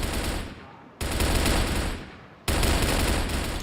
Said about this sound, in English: Shots here through the window.